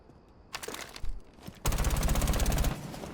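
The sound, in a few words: Callie's SMG gunfire with compensator, video game Rainbow Six Siege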